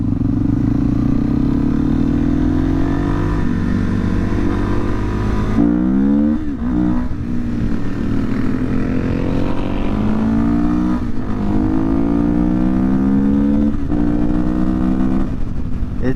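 Suzuki DRZ400SM motorcycle engine with the airbox lid removed, idling loud and close, then revved in several sharp rising bursts with a deep intake growl.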